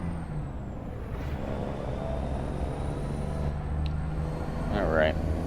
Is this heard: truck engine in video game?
yes